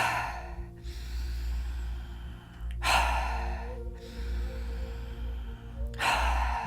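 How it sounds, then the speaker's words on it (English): Deep full breaths during a warrior breath exercise: three long, forceful breaths, each starting abruptly, loud and close, with quieter pauses between them. "And let's do 5 more breaths together. Full deep breaths."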